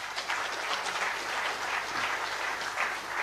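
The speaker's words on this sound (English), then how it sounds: "A big round of applause once again." Steady applause from a large audience filling an indoor hall at an anniversary foundation day ceremony, a continuous dense patter of clapping at moderate level throughout.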